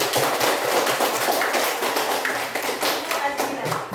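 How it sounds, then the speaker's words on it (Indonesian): A classroom of students claps for a group, dense and fast, loud and close, with some thumps and voices mixed in as the clapping runs on. "Tepuk tangan untuk kelompok 1."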